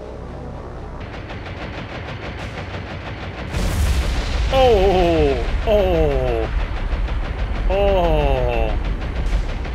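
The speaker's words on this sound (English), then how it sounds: "Nothing like a little magazine explosion" A big explosion from a warship's magazine, set off by a 2,000-pound bomb in the naval game War On The Sea, booms in loudly and keeps rumbling, with a man's short exclamation and a few descending whistling tones over the roar.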